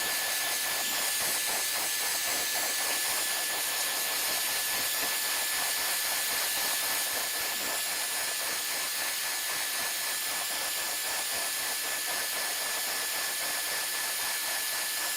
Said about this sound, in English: this is my favorite hair dryer